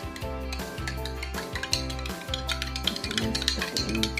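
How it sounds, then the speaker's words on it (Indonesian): A mixture poured and stirred in a container, with a steady scraping stir and repeated light clinks of a utensil against the vessel, close and continuous throughout. "Kita tuang. Dan kita aduk."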